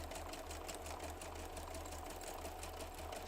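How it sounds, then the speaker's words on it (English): Sewing machine running steadily and close, a fast, even mechanical whir with rapid stitching clatter throughout, no voices. "the sound of a sewing machine is really comforting to me"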